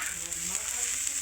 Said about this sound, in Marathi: कांदा बघा लाल भाजून घेणार आहे मी